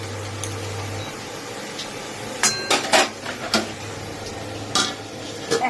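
Spatula stirring turmeric masala in a cooking pan, with several sharp metallic scrapes and clinks in irregular bursts over a low background hum, close by and without talk.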